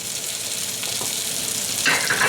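Goat meat frying in a pot with curry powder, allspice, cumin and salt, giving a steady loud sizzle with faint stirring scrapes near the end.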